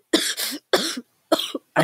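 A single person coughs in three harsh, close bursts, each a rough, throaty hack with short pauses between, heard alone without any talk.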